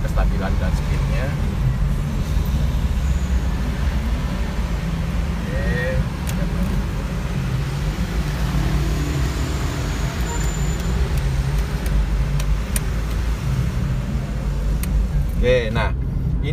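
Steady low road rumble and tire noise from a Nissan car cruising at speed on a toll road, continuous throughout, with faint wind noise above.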